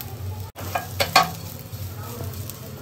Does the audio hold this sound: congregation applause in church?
no